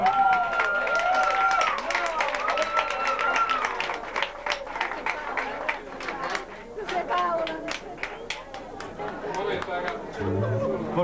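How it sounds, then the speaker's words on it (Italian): Audience applause and clapping from a live variety-show crowd, steady and sustained across the clip, mixed with crowd chatter and an announcer's voice over the top. "Ancora più grosso l'applauso."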